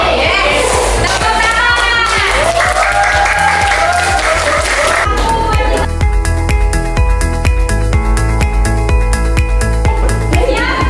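Classroom applause from students during a school history lesson, a lively clatter of hand claps mixed with kids' voices that gives way midway to music with rhythmic taps.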